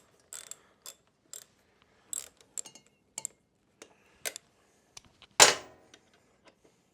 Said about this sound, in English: Break that bolt free.